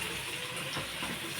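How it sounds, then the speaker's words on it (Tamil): Water is poured into a pan of chicken curry gravy with sour greens, a soft continuous hissing splash and sizzle throughout, close and steady with no voices. "இதில் தண்ணி ஊற்றுறேங்க"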